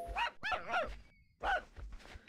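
A dog in the Petz 5 video game barks in several short sharp yaps with brief pauses between them, close and clear with no talk.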